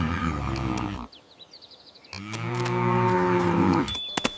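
A cartoon cow moos in an animated village tale about a cow lying fallen on an old dirt road, with two long, loud lowing calls separated by a quiet pause.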